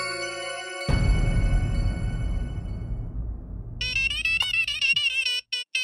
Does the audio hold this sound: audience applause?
no